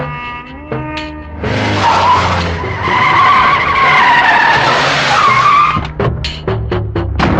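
Car tires screech loudly in a skid during a scene from the 2011 Telugu film Simha Putrudu. A sustained squeal of several seconds rises over engine rumble, then gives way to brief sharp noises.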